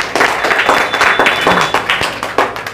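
An audience of coaching students claps for a speaker at an Independence Day celebration at a coaching centre. The clapping is loud, close and continuous, with a crowd of hands beating unevenly for nearly three seconds.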